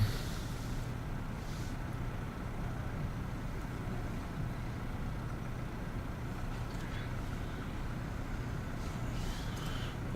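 A vehicle engine runs in Farming Simulator 19, a steady, even rumble with windy broadband noise that holds at constant loudness throughout, with no talk.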